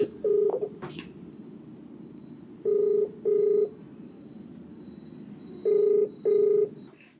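A phone number is keyed in on a telephone: short bursts of touch-tone beeps, some in quick pairs, with pauses between groups, over a faint steady hum.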